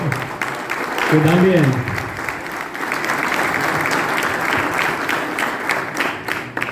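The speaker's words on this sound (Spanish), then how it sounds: "un fuerte aplauso para Pablo Vera" Steady applause from a crowd at a political event in Quequén, rising after a speaker's voice and continuing as a dense, even patter for several seconds, with brief talk near the start.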